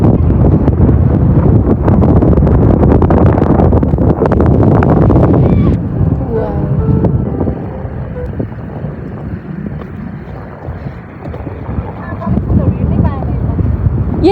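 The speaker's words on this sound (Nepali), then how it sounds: "हावा चाहिँ चल्ने रहेछ" Seaside wind at Golden Bay, Malta, buffets the microphone with loud, rough low rumbling that later eases and then gusts again, while a person talks over it.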